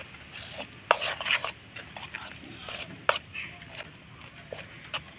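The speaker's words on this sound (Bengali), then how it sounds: "সামান্য একটু দিয়ে ভালো করে মিশিয়ে নেব" Cake batter being stirred by hand after a little water is added, a soft scraping, clinking rhythm of spoon against bowl with a few sharper knocks, close and fairly quiet, with speech heard faintly in the background.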